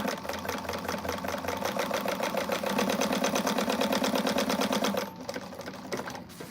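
Close, loud sewing machine stitching the exterior of a Siah Sidekick bag, a rapid regular motor rattle running continuously for several seconds before easing off near the end.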